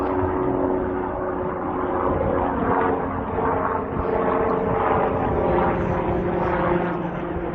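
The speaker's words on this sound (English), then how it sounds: "We got a helicopter going over ahead." A helicopter passes overhead outdoors, its rotor giving a steady, moderately loud pulsing thrum that builds slightly and holds for the whole stretch, with no talk over it.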